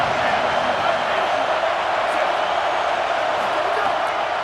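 Stadium crowd in an EA Sports College Football video game: a continuous, even roar of distant crowd noise, loud and steady with no distinct cheers standing out.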